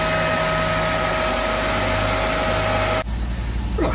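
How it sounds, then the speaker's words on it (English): A vacuum cleaner drones steadily and loudly during boat antifouling work at a haul-out, a constant whining motor hum that suddenly drops in pitch near the end as the sound changes. "the vacuum's got a nice suck."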